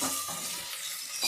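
Taro root (guri kochu) frying in a pan, a steady close broadband sizzle with faint stirring scrapes throughout, no voices.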